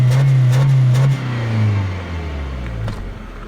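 A car engine revs hard in a rising whine up to a limiter around 4,000 RPM, then drops back and settles to a lower drone, loud and close with no talk.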